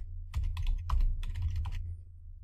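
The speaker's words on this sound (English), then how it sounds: "So I'll just double click the column header and type in commission." Computer keyboard typing in a short burst while a column header is renamed in a spreadsheet, with several quick clustered keystrokes, moderately close and alone, with no talking.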